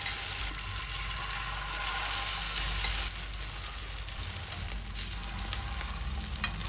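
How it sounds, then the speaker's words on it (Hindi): Aloo tikki potato patties, made from boiled potato and dipped in a cornflour mixture, fry in a little oil on a flat tawa, giving a steady, moderately loud sizzle with faint stirring sounds and no talking. "कॉर्नफ्लोर वाले मिक्सचर में डिप करके टिक्कियों को तवे पर डालें।"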